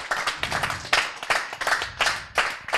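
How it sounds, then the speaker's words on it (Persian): Children clap at a Mawlid celebration in a quick burst of applause, the claps sharp and uneven and fairly close, with a few louder peaks and no talking over them. "این تشویق کنین دوباره دوستای ما را"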